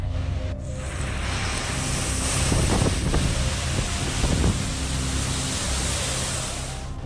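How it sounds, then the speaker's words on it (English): Very strong hurricane wind roars outside a hotel room in Cancun, a loud continuous rushing with gusting surges and heavy buffeting against the microphone. "The wind is very strong, giving you a better sense of the conditions."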